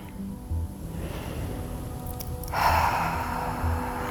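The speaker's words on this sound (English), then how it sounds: "Inhaling softly through the nose and exhaling softly through the mouth" During a full moon yoga session, a person breathes in softly through the nose and out through the mouth. The breath is gentle and close, with one clearer, airy exhale, over a quiet, steady background hum.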